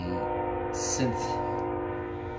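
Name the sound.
passing train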